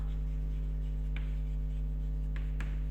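Pen or marker scratching on paper or a board during an economics class lesson, a few soft strokes and taps under a steady background hum, with no talking.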